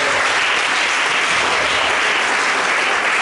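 A church congregation applauds, a dense, loud, sustained clapping that fills the room without pause.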